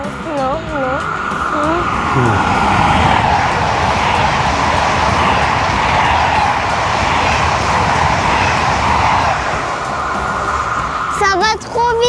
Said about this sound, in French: nous avons également un autre train qui va passer